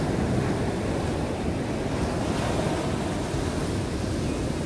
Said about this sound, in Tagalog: Guys, tingnan nyo ang alon, ang laki.